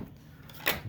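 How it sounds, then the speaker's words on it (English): A plastic battery door on a Yaesu FT-818 portable radio snaps shut over AA Ni-MH cells with one short, sharp click midway, standing alone against a quiet background. "Door should close just fine on top of them."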